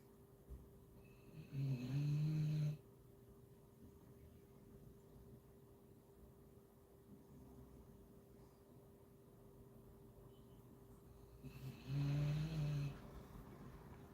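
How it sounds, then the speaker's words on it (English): A dog snoring indoors in two deep, rasping breaths spaced about ten seconds apart, close and clear over a quiet steady hum, with no talking. "He too could be listening to my dog snoring."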